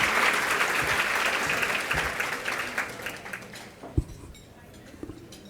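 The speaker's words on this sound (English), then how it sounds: "I'd ask everyone to give her another round of applause" A luncheon audience at a women's leadership event gives a round of applause that is loud at first and gradually thins out to scattered claps and a few sharp knocks.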